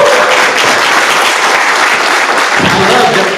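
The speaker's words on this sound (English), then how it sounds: "Give them one more round of applause." Loud, steady applause from a conference audience for a panel on self-love at a real estate event, dense clapping sustained throughout at close range.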